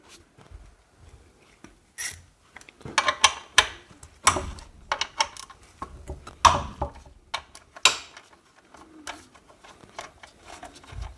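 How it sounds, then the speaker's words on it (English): A ratchet with a 10mm socket works bolts loose on a 2010 Yamaha XJ6 Diversion S motorcycle, giving close irregular clicking bursts and metallic taps separated by brief pauses. "we need a 10mm socket to remove the two 10mm bolts that's there"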